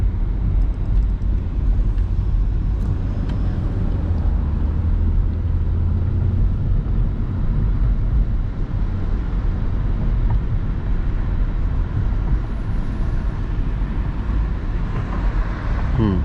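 A Hyundai Genesis Coupe 3.8 is driven at low speed around a school area, its engine and road noise forming a loud, steady in-cabin drone with little change.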